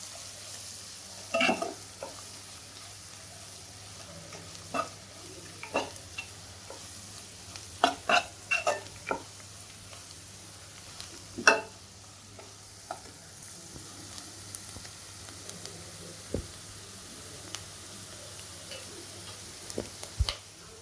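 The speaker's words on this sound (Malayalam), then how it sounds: "എല്ലാം കൂടി ഒന്ന് നല്ലപോലെ ഇളക്കി കൊടുക്കാം." Chilli powder and coriander powder are stirred in a frying pan with oil for a baby potato fry, giving a low steady sizzle broken by irregular spoon clicks and scrapes against the pan, near and without talk.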